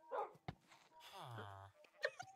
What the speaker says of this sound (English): Yeah, there's my dog.